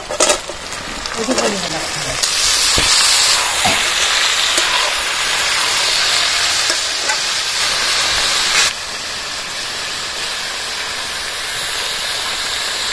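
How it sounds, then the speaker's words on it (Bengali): Chopped ridge gourd dropped onto frying potatoes and nut paste gives a loud rushing sizzle and steam hiss, with clattering stirring at the start, then settles into a quieter steady fry. "এবার ঝিঙে কাটা ঝিঙেগুলো দিয়ে দেবো"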